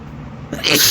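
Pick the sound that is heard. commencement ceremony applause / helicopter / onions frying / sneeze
sneeze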